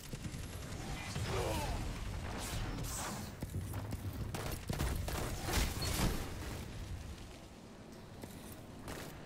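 A Trinity Ghoul bow fires in Destiny with quick whooshing releases and crackling bursts, mixed with mechanical clicks and impacts in a busy stretch of game combat.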